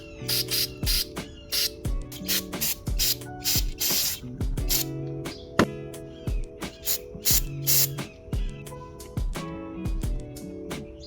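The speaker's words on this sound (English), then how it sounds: "Then spray carb cleaner to clear out the ports." Carburetor cleaner is sprayed into the ports of a SHA carburetor in bursts of loud, close hissing, repeated again and again, with clicks and tonal mechanical ringing between the sprays.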